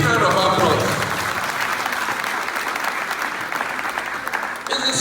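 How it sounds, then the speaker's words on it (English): Graduates at a 2021 skills development center graduation ceremony give a loud, full round of applause lasting about five seconds, slightly tapering toward the end. "Graduates, please give them a big round of applause."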